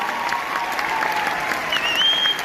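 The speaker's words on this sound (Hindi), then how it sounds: "एक बार हमारे पिताजी के लिए डायरेक्टिव से तालियां हो जाए।" A large audience in Talkatora Stadium, Delhi, claps steadily and loudly, a dense continuous roar of hands with a faint high tone rising near the end.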